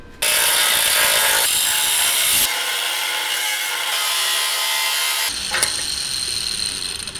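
A power tool cuts through a 1/8 inch steel plate for a homemade rear bumper, a loud harsh grinding whine that holds steadily, shifts pitch midway and keeps going close by.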